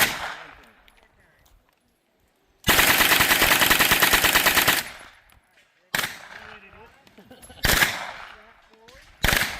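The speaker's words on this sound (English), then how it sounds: "if you want to go full auto, all the way forward, and then lean into it, get a good shooting stance." Machine gun firing full auto at a youth shooting range: one loud sustained burst of about two seconds, then a shorter burst and a couple of brief ones, with quiet gaps between them.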